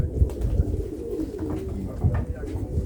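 Low, soft cooing from pigeons murmurs steadily in the background, with a few louder coos rising near the start and end.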